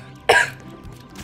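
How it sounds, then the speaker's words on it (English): Two separate coughs from a person with a bad cough, the first strong and about a quarter second long, the second starting just before the end, with quiet room noise between them. "Sorry if I'm coughing a lot."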